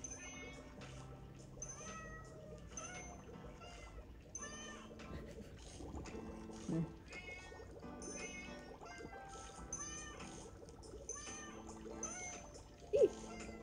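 A squeezable cat toy gives out short meow sounds when pressed, repeated several times over background music in a livestream showroom, with occasional small clicks.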